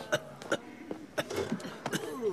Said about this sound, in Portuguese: Tosse. Tosse, tosse.